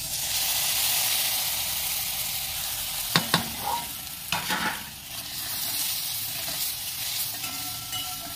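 Spices and tempering tipped into a hot pan of dal give a steady sizzle and frying hiss, with a few sharp crackles and splashes in the middle before settling back into a continuous fry.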